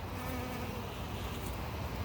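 Bees buzz continuously nearby around unscented flowers, a soft steady hum of insects drifting close to the listener with no talking.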